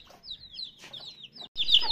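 A hen clucking and calling to her chicks, a series of short, rising, high-pitched clucks close by, ending in a louder burst of calls, with no talking.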